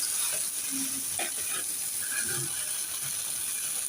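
Pumpkin pieces fry slowly in a pan on a stove while being cooked for bhorta, giving a faint, steady sizzle with a few light scraping and clinking sounds, no talk.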